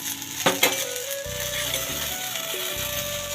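Coriander seeds go into hot oil for a chicken curry, with a couple of bright clicks as they land and then a light, continuous sizzle close by.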